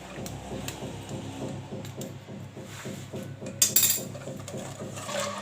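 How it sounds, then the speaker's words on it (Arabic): Ingredients for a chocolate cake being mixed in a bowl: a steady, rhythmic clinking of a utensil against the bowl, moderately close, with a sharper clatter partway through and no talking. "غنخلط هاد المكونات كامله مع بعضياتها مزيان مزيان"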